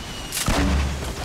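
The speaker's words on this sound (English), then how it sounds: "this other dude's shooting at me" A single heavy shot booms close and loud in Fortnite Battle Royale, with a low rumbling tail fading over about a second.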